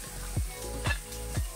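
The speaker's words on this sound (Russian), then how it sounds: "Обжариваем до золотистой корочки." Pilaf ingredients fry in oil in a pot outdoors on a fishing trip, a close steady sizzle with three rhythmic scrapes of stirring, no voices.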